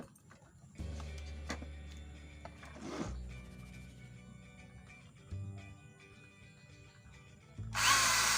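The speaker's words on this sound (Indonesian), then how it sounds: "Bor lagi guys." A power drill whirs in short bursts while drilling holes for a homemade mosquito coil holder, with quiet gaps and small workshop knocks between runs and a louder burst at the end.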